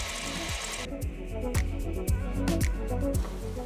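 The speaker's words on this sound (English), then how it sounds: "The stock then gets turned around and drilled to the major diameter to the correct depth." A lathe drills into metal rod stock, giving a continuous close mechanical whir with regular ticking and knocking pulses as the tool cuts.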